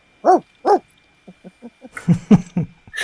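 A dog barks on command indoors: two loud, close woofs, then a run of softer short yips and low grumbling barks in quick succession.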